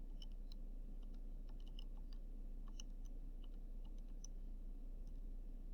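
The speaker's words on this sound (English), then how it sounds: "Then I want to go ahead and type this into the calculator." Calculator keys being tapped to enter numbers, a quick irregular run of small, soft clicks close by over a low steady electrical hum, with no voices.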